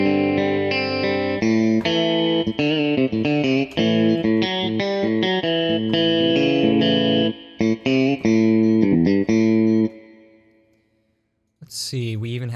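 An electric guitar with a blues preset plays a run of bright, sustained notes and bends for about ten seconds, then fades to silence before a short final burst.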